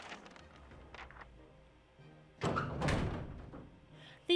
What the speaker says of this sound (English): I locked the door!